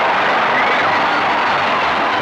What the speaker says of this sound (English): With the crowd excitedly urging him on